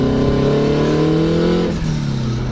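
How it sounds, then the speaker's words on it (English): A big-turbo Honda S2000 accelerates hard, its engine note rising loud and close inside the car for a couple of seconds before easing off briefly, with no talk. "it spools up much faster than a lot of other turbo Hondas I've driven"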